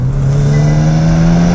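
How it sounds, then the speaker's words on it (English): A Hyundai i20N with a dual single exhaust holds a loud, steady rev, a dense continuous engine drone heard close up with no talking. "it's got that, what is a dual single exhaust on the back or something that likes to pop and bang and rev"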